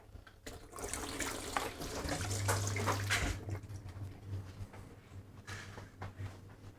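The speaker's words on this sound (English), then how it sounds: "I'm just going to wash my hands again." Tap water runs into a kitchen sink for hand washing while a dump-in cake is being made, a steady splashing stream with a low hum underneath and a few clatters, no talking.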